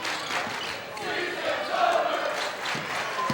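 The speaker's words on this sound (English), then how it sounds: "they have obliged with the rhythmic clapping on the far side" Falcon student section crowd at a 2006 high school district title basketball game, a broad steady roar of noise with faint rhythmic clapping from the far side of the gym, continuous and fairly loud throughout.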